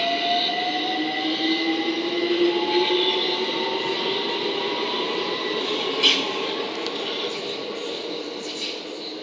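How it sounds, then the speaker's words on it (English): A London Overground train departs Brockley station on the Brighton main line, its steady rolling rumble and rising motor whine sustained and fairly close, with a faint wheel squeal, no talk. "now departing is the 1509 London Overground service to Highbury and Islington"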